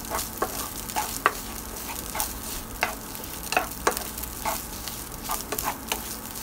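Shrimp stir-fry in annatto oil in a pan, a steady sizzle broken by the scrape and clack of a spatula tossing them at irregular intervals.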